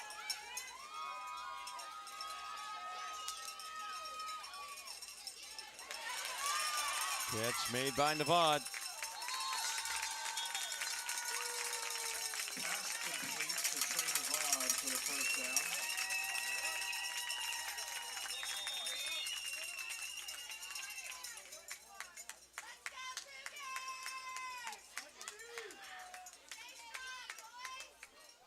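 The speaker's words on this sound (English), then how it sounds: "let everyone listen to the crowd as they cheer on the last couple of plays here" Home fans cheer at a 3A 8-man high school football championship, Merritt Island Christian against Old Plank. A steady wash of crowd noise swells and fades over the closing plays, with whistles and an announcer speaking briefly.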